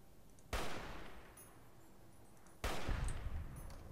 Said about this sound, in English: It's more shooting.